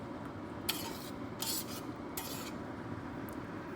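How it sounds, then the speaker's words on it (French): A utensil scraping and stirring food in a pot during home meal-kit cooking, soft intermittent rasping strokes over a low steady background, no talking. "on mélange ça comme il faut"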